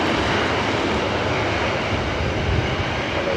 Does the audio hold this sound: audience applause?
no